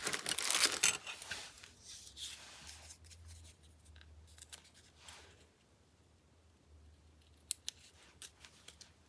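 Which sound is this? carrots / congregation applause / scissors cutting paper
scissors cutting paper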